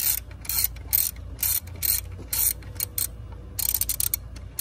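A ratchet wrench loosening a metal bracket on a 2002 Ford F-150 5.4L V8 engine, clicking in several quick bursts with short pauses between them, close and clear.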